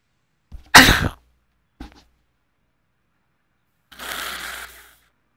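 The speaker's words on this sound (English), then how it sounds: "Sorry, I really have bad sniffles." A person with bad sniffles lets out a sharp cough, then a short sniff, and after a pause a longer sniffling breath, all close and isolated against silence.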